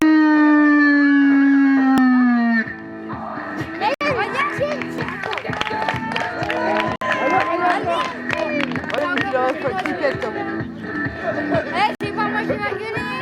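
A crowd at a French wrestling show for the wrestler The Explosion, with a dense, steady roar of cheers and chatter after a long, wavering howl-like tone opens the moment.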